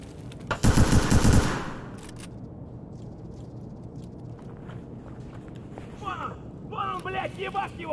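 A short, loud burst of rapid gunfire from Escape From Tarkov hits near the start, followed by quieter game ambience, faint movement and tonal clicks later.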